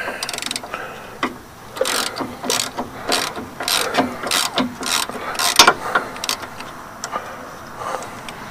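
A wrench ratcheting on a nut at the front wheel of a 1999 OBS C3500 2wd truck, with repeated quick clicking pulls in irregular bursts, close and fairly loud, brief pauses between strokes.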